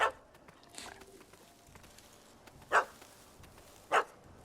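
A dog barks in The Witcher 3: Wild Hunt, giving a few short, sharp barks spaced well apart, moderately loud and with no talk over them.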